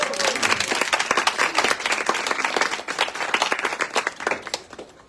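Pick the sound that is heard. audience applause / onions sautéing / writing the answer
audience applause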